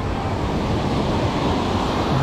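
Ocean waves at Praia do Francês, a calm reef-sheltered beach in Marechal Deodoro, Alagoas, heard as a steady broadband wash of small surf with some wind noise, continuous and close.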